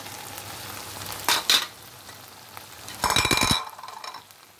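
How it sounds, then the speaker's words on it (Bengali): Pre-fried okra tipped into a pan for restaurant-style bhindi do pyaza, giving a quiet steady sizzle with a few short scraping stirs and a louder burst of frying near the end; no one speaks. "এখন দিয়ে দিচ্ছি সেই ভেন্ডিগুলো,"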